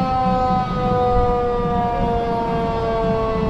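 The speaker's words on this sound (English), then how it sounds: "Now we have a fire engine here." A fire engine siren at a town cattle drive parade holds a steady, sustained wail with strong even tones throughout, loud and close over faint crowd and street noise.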